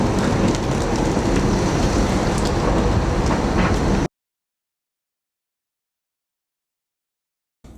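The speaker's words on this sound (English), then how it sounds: "This rain is atrocious." Heavy rain pours in a dense, steady roar for about four seconds, then cuts off abruptly into silence.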